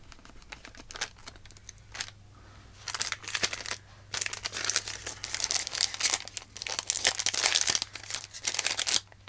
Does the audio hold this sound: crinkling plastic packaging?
yes